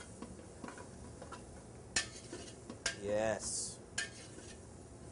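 Beef stew vegetables such as parsnips and fennel, dusted with flour, are stirred in a pot, with a few sharp spoon knocks against the metal and a brief scraping sizzle under a short spoken word.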